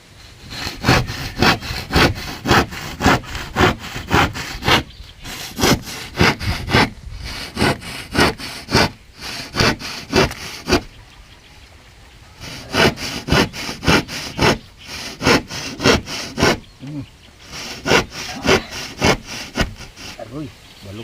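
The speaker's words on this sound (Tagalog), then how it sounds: "Ito ang lagari ng pangmahirap mga kalulo" A hand saw cuts through wood while a small hut is being built, giving loud, close, rhythmic back-and-forth strokes in quick bursts separated by short pauses.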